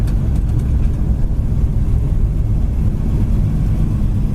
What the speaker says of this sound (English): you can hear the idle, how nice and quiet it is in the car